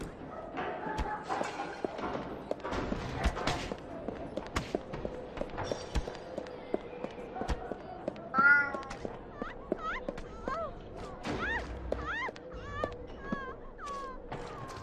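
Cat meowing in the video game Alice: Madness Returns, a series of short rising mews in the second half of the clip, heard over game music and ambient sound.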